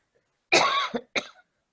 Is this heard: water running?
no